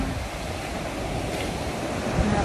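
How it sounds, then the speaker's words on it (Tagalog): Strong wind batters the microphone over a rough, choppy sea, a continuous loud rumble of buffeting gusts and breaking waves with no voices. "sobrang windy. Sobrang maalon siya."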